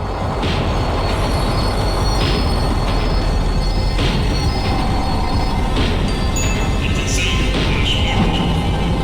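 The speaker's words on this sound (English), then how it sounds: "The tram was slowing down, and I'd only just gotten on board." Tram in the video game Max Payne 3 slowing down, loud and close, with a continuous rumbling roll of wheels on rails and repeated high metallic squeals and screeches as it brakes.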